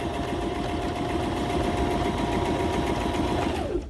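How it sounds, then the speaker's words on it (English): A sewing machine runs steadily and close by as it stitches fabric for a child's headband, a continuous rapid whir that stops abruptly near the end. "we're going to go ahead and continue to stitch down the other side"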